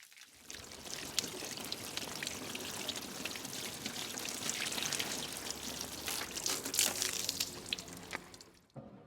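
Water spraying across the panels of a Range Rover Sport SVR, a steady hiss and splatter of rinsing that swells and eases a little before stopping abruptly, close and with no voices.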